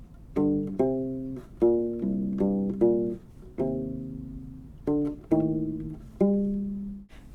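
A U-Bass plays measures 17 and 18 of a song as a solo passage of about a dozen plucked, sustained low notes in a steady melodic rhythm, close and clear.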